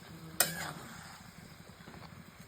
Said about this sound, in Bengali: এখন আমি চিকেনটাকে ভালো করে পেঁয়াজটা দিয়ে মশলা দিয়ে ভালো করে চিকেনটাকে কষাবো।